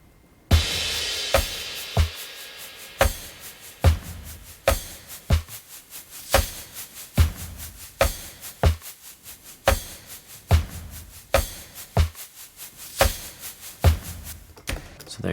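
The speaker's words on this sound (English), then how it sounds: "A couple different shakers, tambourines" Several shakers and tambourines, including a soft red Meinl Studio shaker, play the percussion part of a country song's first chorus as a steady stream of crisp rhythmic hits and jingles, alone without talk.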